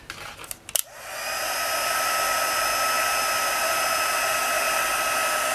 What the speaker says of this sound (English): you can heat it with the heat tool